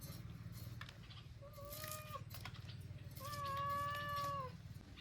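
A cat meows twice nearby, a short call followed by a longer, louder drawn-out one, over a low background hum.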